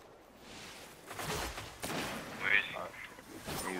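Gunfire from the PS3 game Destiny, in a Trials of Osiris match, comes in scattered bursts of shots mixed with game effects, with voices talking over the action.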